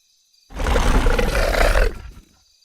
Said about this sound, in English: it charged at me with a loud roar